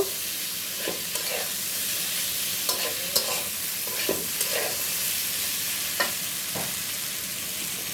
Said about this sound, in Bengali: সবজিগুলো সুন্দর করে কষানো হয়ে গেল